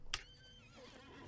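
A single short horse whinny in the video game Lord of the Rings Online, a sharp bright call at the start, then a faint low rumble fading away with no talk.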